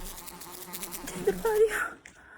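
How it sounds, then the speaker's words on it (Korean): A fly buzzes around a pilgrim walking the Camino de Santiago toward Los Arcos, a close whining hum that swells and dips as it circles, with faint speech and footsteps beneath. "파리야 진짜 계속 같이 걷고 있어"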